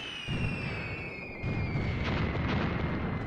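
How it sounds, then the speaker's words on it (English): A mortar barrage lands in the Graviteam Tactics: Mius Front war game, with distant rumbling explosions swelling in two waves over a low, continuous battlefield drone. "another mortar barrage being called in to the north of this hill line"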